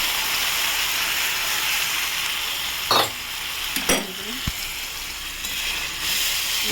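Hilsa fish curry sizzling in oil with hot water poured in and stirred, a steady close fry hiss broken by a few sharp splashy bursts and scraping stirs.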